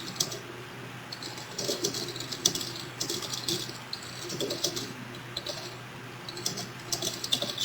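Typing on a computer keyboard while entering an order description, giving steady, fairly faint clicking keystrokes in irregular bursts over a low background hum.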